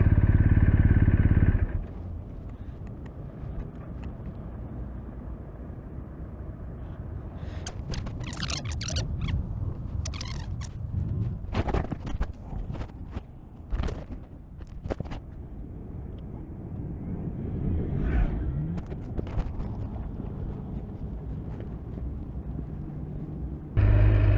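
A motorcycle ride heard from the rider's position, the engine running steadily for most of the stretch with buffeting wind noise and occasional clatters, loud and close throughout with no talking.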